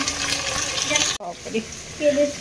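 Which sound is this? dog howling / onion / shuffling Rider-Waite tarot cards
onion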